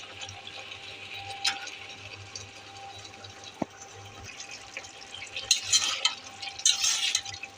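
Tomato is stirred into a spice paste frying in a pan for a spicy poa fish curry, giving a quiet hiss with soft scraping. Louder, bursty stirring and sputtering comes near the end.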